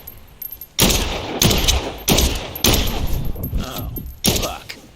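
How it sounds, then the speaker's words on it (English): Gunfire in the zombie video game Dead Island 2, several loud sharp bursts of shots spaced irregularly over a few seconds with a continuous game-ambience bed in between. "And as you can see, we can just shoot them."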